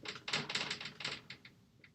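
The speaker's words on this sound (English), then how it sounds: "I'll get another marker here and I'll write it down." A marker squeaks and taps across a whiteboard in a quick series of short, scratchy strokes, faint and close, with no talking.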